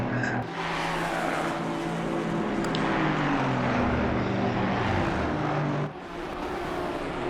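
GT4 race cars, a McLaren among them, at Spa-Francorchamps, with engines roaring past close by and pitch sweeping as they pass, a loud sustained drone that drops off sharply near the end before a second car follows.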